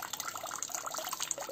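Cold water runs from a tap during handmade wax foundation sheet pressing with a manual press, a steady close splashing gush for a brief moment.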